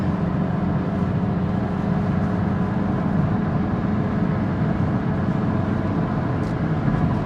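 A 2019 Mazda CX-5 engine drones steadily from inside the cabin while driving through the gears, a continuous low rumble with road noise that holds an even level throughout, without voices.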